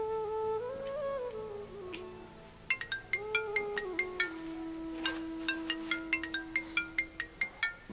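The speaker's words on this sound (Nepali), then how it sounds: "ए आमाको फोन आएछ" A mobile phone ringtone plays in a home during a Nepali drama scene, a melodic electronic tune followed by a steady run of short, bright, repeated pings. No one talks.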